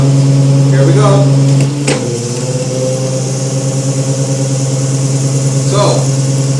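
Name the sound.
EV driving ZF automatic gearbox, solenoid valve power cut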